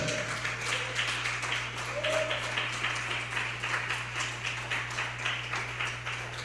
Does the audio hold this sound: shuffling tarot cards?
no